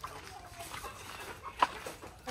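Chickens in battery cages set under banana trees, faint scattered clucks and soft fowl calls in a quiet outdoor setting.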